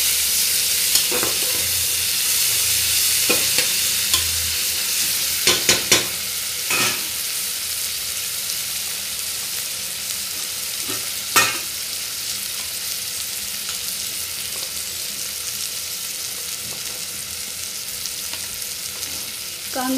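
Onion sautéing in a pan for prawn rice, with a steady loud sizzle and a few clinks and scrapes of stirring.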